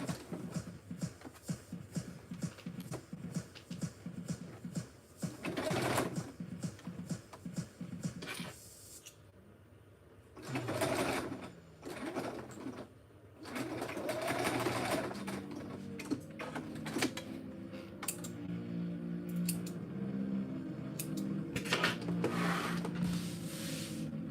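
A sewing machine running a long basting stitch on a bag handle, heard as bursts of rapid mechanical clatter and whirring broken by pauses and fabric shuffling, close and fairly loud.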